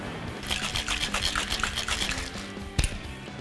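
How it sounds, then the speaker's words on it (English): A cocktail with lemon and simple syrup poured over fresh ice, a close liquid splash and crackle of ice in a glass, steady for a few seconds with a sharp clink near the end. "Pour the drink right over fresh ice."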